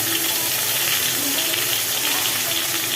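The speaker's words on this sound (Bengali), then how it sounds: "এই মাছগুলোকে ভাজা হচ্ছে" Loud, steady sizzling of live rohu fish frying in hot oil, a continuous crackling hiss that fills the whole clip.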